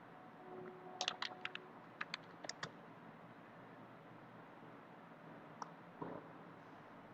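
Scattered clicks on a computer keyboard while a file name is entered, a small cluster of keystrokes early on, then a few isolated taps later, faint against a low steady room hiss.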